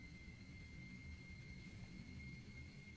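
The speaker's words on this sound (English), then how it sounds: "Like, seriously, is it just hovering above my house?" An aeroplane flies overhead and seems to linger above a house, giving a steady, continuous engine drone that holds evenly throughout with no one speaking.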